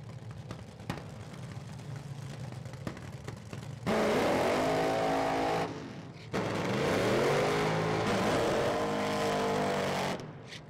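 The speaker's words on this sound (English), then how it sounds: "Now we got burnouts." Top alcohol dragsters doing burnouts at an NHRA Four-Wide Nationals drag race, two long loud roaring engine bursts with rising and falling revs over crowd and track ambience.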